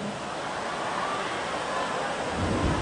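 Steady heavy rain with a low thunder rumble, a dense continuous roar with no voices over it.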